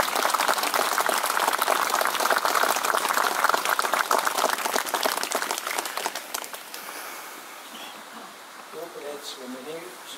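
Audience applause at an outdoor memorial ceremony in the Gračnica valley: dense, steady clapping from a large crowd that gradually fades out, after which a speaker's voice resumes.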